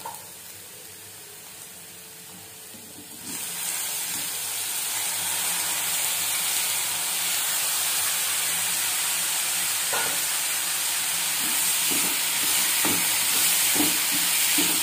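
Tomatoes added to softened onions in a pan, a quieter start that jumps into a continuous frying hiss, with spoon scrapes and taps becoming more frequent near the end.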